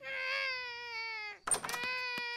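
Cartoon baby Alexander wails loudly in a long, tonal, rising-and-falling cry, then breaks into a burst of choppy, sobbing sounds with sharp catches.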